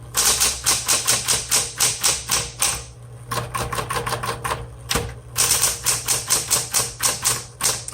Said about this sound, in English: Okay, let's go ahead and type.